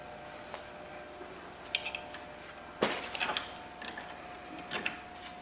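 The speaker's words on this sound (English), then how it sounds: "Just stick the bolts in, just like last time." Metal bolts being pushed into the axle fittings of a CC-32 mobile chicken coop during assembly: a few scattered light metallic clicks and clinks, close by, with quiet gaps between them.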